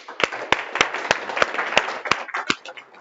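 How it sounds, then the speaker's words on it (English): A small group of people claps at a hackathon final session, with sparse, distinct individual claps roughly every third of a second that sound close and thin rather than like a full crowd. "Round of applause."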